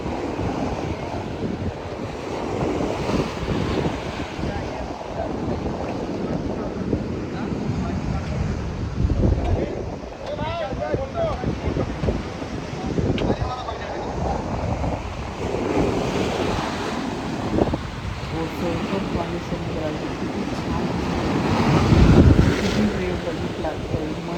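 Ocean waves roll in at Harihareshwar beach, a continuous loud surf wash mixed with heavy wind buffeting the microphone, swelling to a stronger crash near the end.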